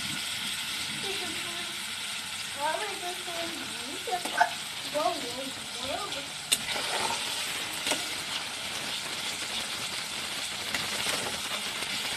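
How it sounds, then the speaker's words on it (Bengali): Onions frying lightly in a pan for a Bengali chicken roast make a steady, moderate sizzle throughout. A few soft stirring scrapes and clinks come through while a voice speaks quietly underneath. "হালকা করে পেঁয়াজগুলো ভেজে নেব"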